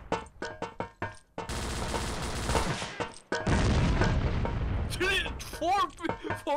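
A grenade detonates in the Vietnam War shooter Vietcong, played co-op, with a loud sustained roar amid gunfire, framed by sharp clicks and scattered shots before and after; people talk over part of the action.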